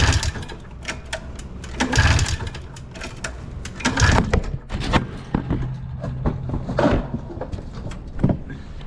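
A 1996 Yamaha Vmax motorcycle with the choke on is cranked in several bursts of starter whirring and mechanical clatter, uneven and close, with short gaps between attempts but no steady idle.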